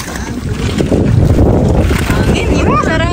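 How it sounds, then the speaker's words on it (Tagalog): Wind gusts across the mic beside a lake while swimmers and a boat are nearby, a loud, steady low rumble with people talking faintly underneath. "Hangin, yun. Sarap."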